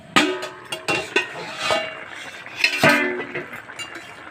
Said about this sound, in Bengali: 2 মিনিট বাদে আমি ঢাকা খুলে দিচ্ছি।